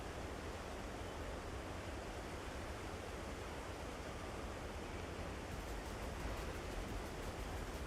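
Waterfall ambience in a video game, a steady, even rush of falling water filling the scene without a break, moderately quiet and unchanging throughout.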